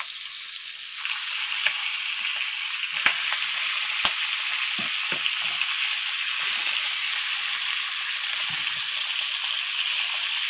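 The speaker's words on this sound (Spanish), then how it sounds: "tengo un caldero donde voy a estar sellando los pollos para que me queden bien ricos" Chicken pieces searing in very hot oil in a heavy pot: a loud, steady hissing sizzle fills the whole stretch, with a few brief taps and clinks near the start and middle, no talking.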